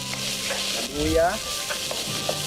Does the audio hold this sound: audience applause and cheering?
no